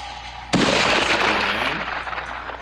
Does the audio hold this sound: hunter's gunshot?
yes